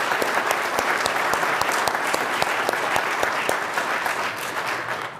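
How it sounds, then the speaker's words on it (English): Steady, dense applause from an audience at a college governing board meeting, filling the room evenly at close range with no voices over it. "let's give them a round of applause"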